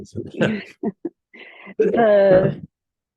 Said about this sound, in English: I'm going to start coughing.